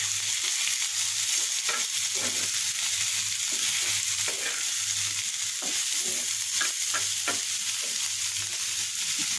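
Boiled leafy greens sizzle steadily in a hot pan while a utensil stirs them, scraping and clicking in irregular strokes over a constant hiss of frying, close and with no talk.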